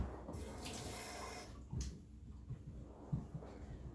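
Water runs from a kitchen tap for a few seconds during holiday pie baking, a steady close rush that cuts off, followed by faint clinks and handling sounds.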